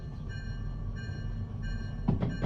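A train rolls through a shunting yard in the railway game Derail Valley as a steady, low mechanical rumble with faint tonal whine, ending in a few heavier clunks and knocks.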